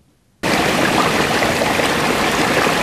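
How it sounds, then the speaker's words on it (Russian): Water gushing steadily from an underground pipe in a village near Saratov, a loud continuous broadband rush that starts abruptly after a brief quiet moment and runs unbroken, close by, with no voices. "Дома в одном из поселков города Саратова подмывает водой, которая течет из трубы под землей."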